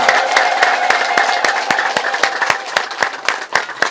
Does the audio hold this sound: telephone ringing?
no